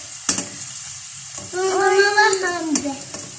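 Popping chips frying in a pan, with a loud continuous sizzle broken by several sharp, close pops.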